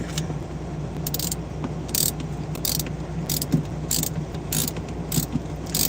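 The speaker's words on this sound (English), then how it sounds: "Go ahead and tighten this bad boy back down in there." A ratchet hand tool tightening a part back down on a truck's air-conditioning bunk resistor, a rapid run of clicking ratchet strokes in quick bursts, close and loud, with no talk.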